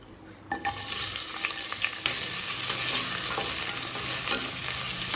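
Onions hitting hot oil with whole spices such as bay leaf, stone flower and star anise in a pan for plain biryani, a sharp onset into a loud steady sizzle with stirring scrapes and crackles, no talking.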